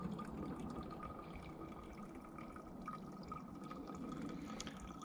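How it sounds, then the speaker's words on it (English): Water filtering and dripping at an outdoor camp during a hike, a steady fine trickle with soft drips, close and continuous, no talking. "Bit of water filtering."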